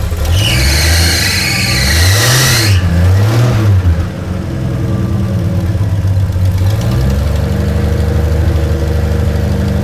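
Turbocharged six-cylinder car engine with a carburetor, just started and running loud and close, its revs surging and dipping unevenly before settling into a steadier idle, with no voices.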